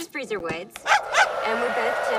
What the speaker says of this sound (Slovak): A za nám vylezie pes.